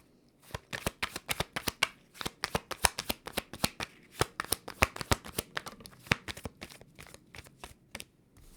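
Tarot cards riffle and snap in quick, irregular bursts, a close, crisp shuffling that repeats many times without pause.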